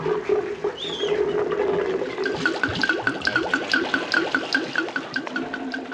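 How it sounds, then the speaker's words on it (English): Water gushes and splashes steadily across a television studio floor as a staged flooding effect, a loud, close, churning rush that runs throughout with bubbling, gurgling surges. "we can turn off the water now, Hal."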